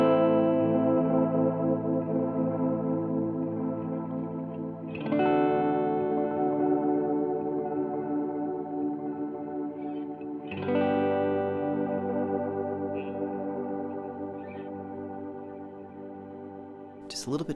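Electric guitar chords played through an ambient delay pedal, three sustained strums swelling into long, washy echoes with a faint hiss in the high end, heard alone at moderate volume.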